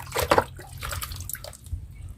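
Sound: pouring liquid termite repellent onto termites

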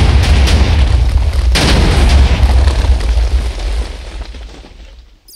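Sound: TNT cannon firing explosion in Minecraft video game

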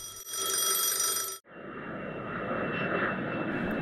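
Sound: airplane flying

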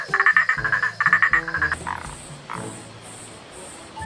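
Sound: frog croaking

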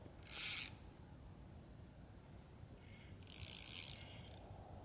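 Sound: fishing reel being cranked

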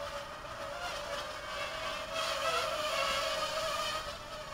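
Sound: Parrot Mambo mini drone flying

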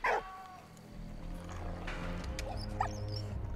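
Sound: dog barking and whimpering in video game Valiant Hearts

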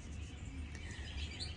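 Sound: small bird chirping

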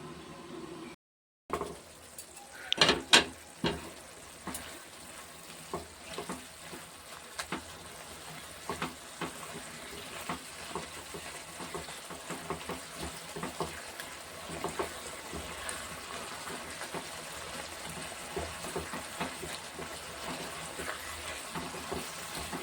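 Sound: prawns frying in a pan

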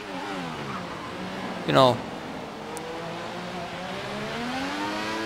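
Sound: Formula 1 car engine in the video game F1 2014

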